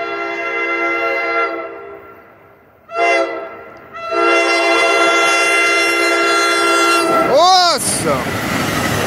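A loud, sustained New Jersey Transit train horn blares in several long blasts, broken by a short gap, with rumbling rail noise and a passing whoosh at the end.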